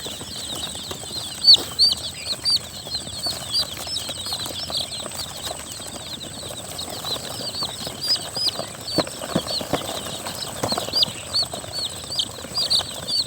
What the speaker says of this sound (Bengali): এটা হচ্ছে টাইগার মুরগি বাচ্চা